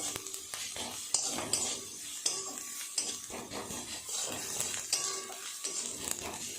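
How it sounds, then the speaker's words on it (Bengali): Chili powder and cumin powder are stir-fried in a pan, with a spoon scraping and clinking in an irregular rhythm over a soft, low sizzle, heard up close and quiet, with no talking. "সব মশলাগুলো একসাথে সুন্দর করে কষিয়ে নেব।"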